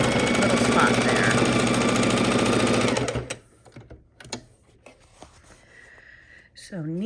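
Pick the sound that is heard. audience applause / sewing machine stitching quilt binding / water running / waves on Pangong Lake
sewing machine stitching quilt binding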